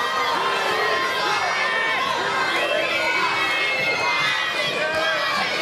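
A large crowd at a wrestling match in the Pasadena Convention Center roars and cheers continuously and loudly, with scattered shouts rising over the dense, steady din.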